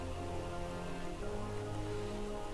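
Steady synthetic rainfall from Rain Dance during a Pokémon video game battle, an unbroken hiss of drops over a low sustained hum, with no talking.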